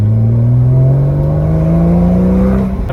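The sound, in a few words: Porsche 981 with Becker S type exhaust running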